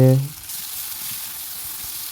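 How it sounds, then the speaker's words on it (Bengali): Onions and chillies fry in a pan for a spicy fish curry: a short low tone at the start gives way to a steady, close sizzling hiss that continues evenly to the end. "এই যে বর্তমানে পেঁয়াজ, বাকি লঙ্কা টঙ্কা যা আছে ওগুলো ভাজা চলছে।"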